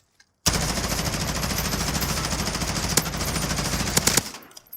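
Rapid automatic gunfire in Modern Warfare multiplayer, shot through a building's walls: a sustained loud burst of machine-gun fire lasting several seconds, with a few sharper cracks before it cuts off.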